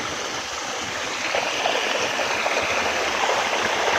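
Steady broadband rush of water spilling from a small stone structure at Samrala waterfall near Samahni, a continuous close splashing roar with no voices.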